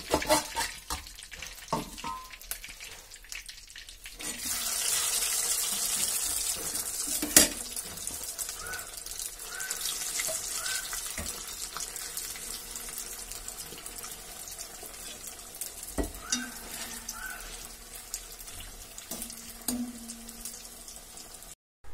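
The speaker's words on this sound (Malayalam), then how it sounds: "അപ്പൊ നമ്മുടെ ചിക്കൻ എല്ലാം പൊരിച്ച് കഴിഞ്ഞിട്ടുണ്ട്" Chicken fries in coconut oil in a pan with a steady, hissing sizzle that swells after a few seconds and continues throughout, broken by occasional clinks and stirring.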